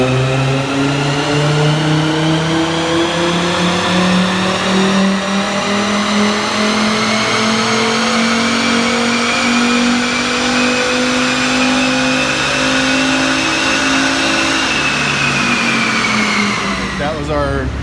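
A tuned Volvo V70R with a diffuser and large wing roars through a sustained dyno power pull, its engine note climbing steadily and loudly for over fifteen seconds before dropping off at the end.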